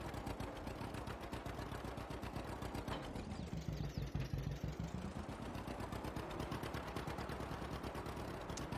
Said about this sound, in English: The classic John Deere two-cylinder sound.